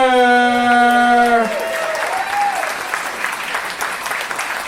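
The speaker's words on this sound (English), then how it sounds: "please, welcome to the stage with a big round of applause, your MC for tonight's show, Chris O'Connor!" Applause from a live podcast show crowd welcoming the MC onto the stage, a steady wash of clapping that begins while an announcer's amplified voice finishes speaking and then continues alone at moderate level.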